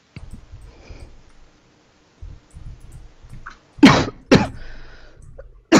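A sharp, loud sneeze bursts out after a quiet stretch of a person's muffled breathing and shuffling, followed by a second sneeze and then a brief third one cut off at the end.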